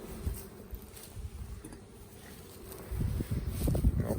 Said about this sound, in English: plenty of bees up here in this box